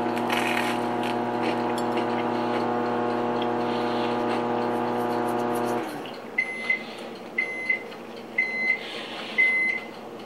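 A microwave oven hums steadily while heating a slice of dairy-free cheese pizza, then the hum stops and a series of sharp beeps and clicks follows at close range.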